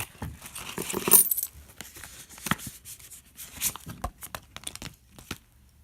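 Coins clink and paper bills and an envelope rustle and crinkle close up as cash is handled, in irregular bursts with quiet gaps and no talking.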